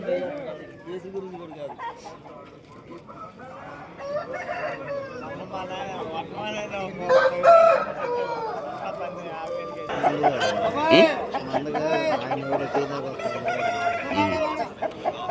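Roosters at the Vijayawada poultry market crow and cluck amid busy crowd chatter, several drawn-out calls rising above the voices midway, with people talking throughout.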